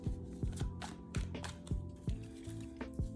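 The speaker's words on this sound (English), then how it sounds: "let me do one more side shuffle" A deck of tarot cards being side-shuffled by hand, giving soft, rhythmic riffling slaps that repeat roughly every half second, close and quiet with no talking.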